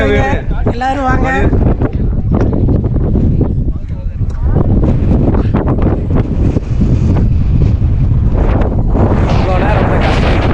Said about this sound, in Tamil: செம காத்து.